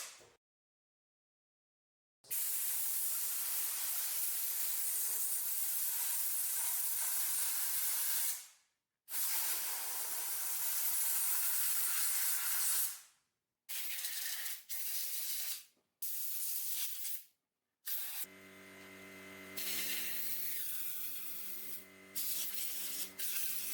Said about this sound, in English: So to clean the holes, I am first going to blast it with some compressed air.